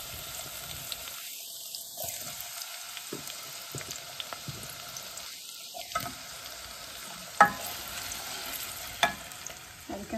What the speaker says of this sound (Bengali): আমি সরিষার তেল দিয়া করলাম, যেটা মাস্টার্ড অয়েল একটা, আর এটার মাঝে আমি পাঁচফোড়ন দিছি, আর এখন আমি পেঁয়াজটা দিলাম